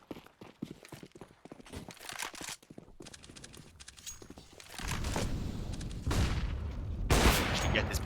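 Gunfire in Counter-Strike on the Inferno map during an ESL Challenger League match, with scattered rapid shots and bursts followed by a louder, denser stretch of sustained firing.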